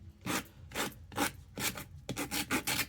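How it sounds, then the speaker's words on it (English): Sanding block buffing the rough edges of a mixed media album, rhythmic rasping strokes repeating about seven times, close and fairly quiet with no talk. "I am actually going to take my sanding block"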